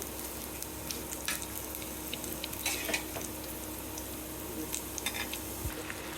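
Mixed vegetables for a vegetarian curry fry in a hot pan, giving a steady, close crackling sizzle with occasional sharper pops and stirring scrapes throughout.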